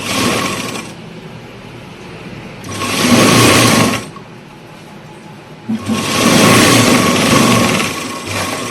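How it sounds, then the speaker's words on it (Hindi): An electric sewing machine stitches a strip onto a kurti in two loud, steady whirring bursts of about a second and two and a half seconds, with quieter handling and a low hum in between. "तो ये हमने सिलाई कंप्लीट कर ली है।"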